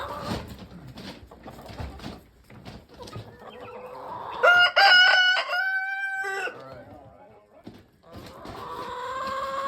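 A rooster crows loudly in a chicken coop, a long, clear call in the middle, with hens clucking and chattering around it before and after.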